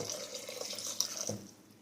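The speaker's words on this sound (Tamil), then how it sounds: "கொஞ்சமாக தண்ணி சேர்த்துக்கலாம்." Water runs and splashes softly into a cooking pot for a moment while making dalcha curry, fairly quiet and close, with a faint clink.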